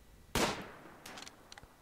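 A turret in the RimWorld video game fires a single sharp, loud shot followed by a decaying tail, then a few fainter popping shots trail after it.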